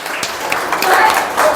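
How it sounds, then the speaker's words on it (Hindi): Audience clapping at a gathering in a Buddhist vihara in Kandivali East, a loose patter of hands that swells slightly toward the end. "एक बार मैडम के लिए जोरदार ताली होनी चाहिए। ताली बजाइए।"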